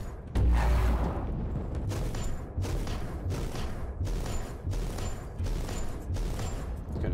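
Turrets firing in Warhammer 40K: Inquisitor - Martyr, a rapid series of loud thumping shots in regular bursts, with booming impacts behind them and no talk.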